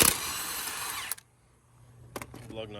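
A power tool drives a wheel back onto a Dodge Durango SRT during rear brake work. It whirs loudly for about a second, stops, then gives two brief closing bursts.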